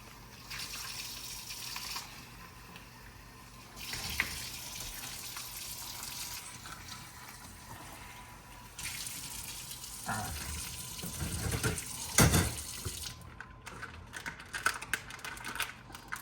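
Tap water runs into a bag to rinse blood off deer backstrap meat, a steady wash of flow with a louder splashing burst near the end.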